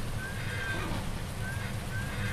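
A horse in Farming Simulator 19 neighs, faint whinny calls rising over a steady low background hum, heard briefly twice with no talking.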